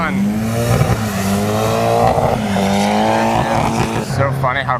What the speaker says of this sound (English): It's so funny how quiet the cars are now that they're in the water.